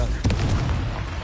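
A Confringo fire spell bursting in the Hogwarts Legacy video game during a troll fight, a single loud booming blast with a rumbling tail, close and heavy.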